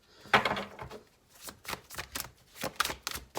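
Rapid flicking and slapping of large tarot cards being shuffled, a series of crisp bursts in uneven rhythm, close and fairly quiet.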